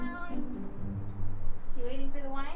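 A local cat in a town in Albania meows a few times, its drawn-out, wavering calls rising over background chatter and voices nearby.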